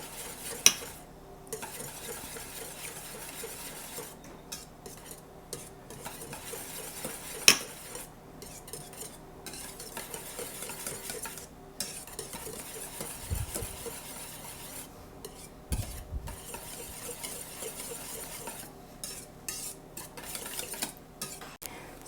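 Lemon poppy seed cake batter being stirred by hand in a bowl, with steady scraping and stirring strokes that come and go in bursts, quiet and close, plus an occasional utensil clink against the bowl.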